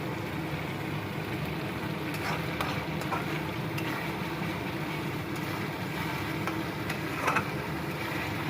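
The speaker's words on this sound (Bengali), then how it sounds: "পুরো মশলাটা ভাজা হয়ে যাবে" Cumin and ginger spice paste fries in oil with a low, steady sizzle and a soft hiss that runs evenly throughout, no voices.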